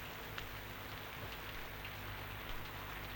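Rain falling steadily at night in a village, a faint, even broadband hiss with no break and no voices.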